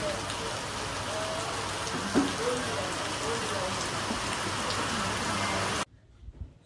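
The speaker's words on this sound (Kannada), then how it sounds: "ಫುಲ್ ಮಳೆ ಐತ್ರಿ, ಹೆವಿ ಮಳೆ ಐತಿ." Steady, heavy monsoon rain pouring down and splattering on surfaces at a railway station back gate, a dense continuous hiss that cuts off abruptly near the end.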